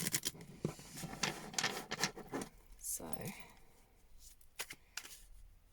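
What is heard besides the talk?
shuffling tarot cards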